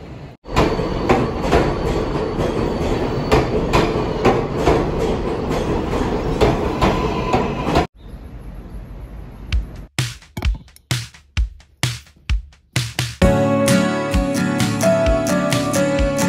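Train ride toward a Songkran temple festival: a steady rolling rumble of the carriage, then a pause, a run of rhythmic clickety-clack wheel beats, and a tonal hum as the train moves on.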